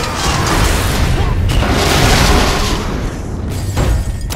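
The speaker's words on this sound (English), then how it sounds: "Possible laboratory break-in confirmed by big explosion." A big explosion bursts during a laboratory break-in in the LEGO Marvel Super Heroes video game, a loud, sustained boom with rumbling debris that fills the whole moment, with voices mixed in.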